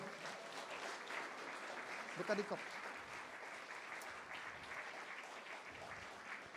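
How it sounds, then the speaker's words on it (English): Faint, steady applause from a wedding crowd fills the background, a soft continuous patter with a brief word spoken over it. "I want all of you to give a big round of applause to the"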